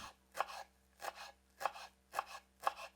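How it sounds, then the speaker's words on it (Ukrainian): A knife chops dill on a cutting board in five soft, evenly paced strokes, close but quiet. "Далі нарізаємо кріп."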